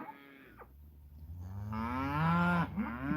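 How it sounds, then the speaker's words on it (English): Cattle on a homestead low loudly and at length, with one long drawn-out moo after a shorter call, close by and without any talk. "I don't think they'd hear me for all the mooing."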